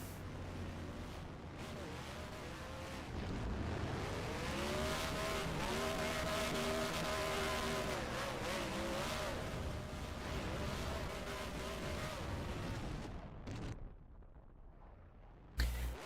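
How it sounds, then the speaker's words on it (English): Race cars do dueling burnouts after a TMP Summer Cup Series feature at Homestead Miami Speedway, giving a sustained loud engine roar with screeching tires that holds steady, then drops away near the end. "dueling burnouts here"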